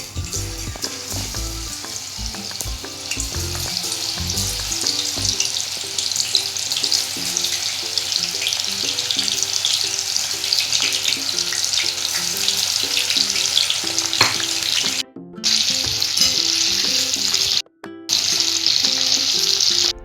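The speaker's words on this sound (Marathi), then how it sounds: "कढईमध्ये तेल तापलं की मीडियम टू हाय फ्लेमवर आपल्याला मस्त सोयाबीन फ्राय करून घ्यायचे" Steady, loud sizzling and crackling of soybean chunks deep-frying in hot oil over medium-high flame, with occasional stirring clinks and a couple of brief pauses.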